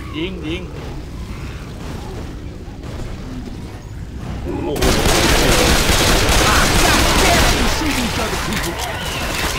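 Gunfire in Left 4 Dead 2 against zombies: dense bursts of shots, sparse early on, then turning into a loud continuous barrage after about five seconds, mixed with mechanical clatter.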